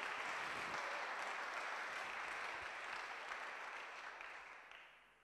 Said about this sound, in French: Est-ce qu'on peut acclamer d'abord le Seigneur que je continue?